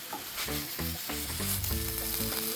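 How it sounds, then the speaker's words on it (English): Crappie, pepper and onion mixture frying in a pan on the stove, with a steady, close sizzle throughout and tonal, music-like notes layered over it. "So you just cook the mixture crappie, pepper, onion, until the onion is like clear"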